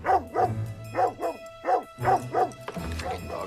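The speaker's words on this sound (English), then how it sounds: "Freaking dog. All he does is bark." A dog barks in a repeated series of sharp, loud, close barks with short gaps, mixed with yips, over a low steady hum in the background.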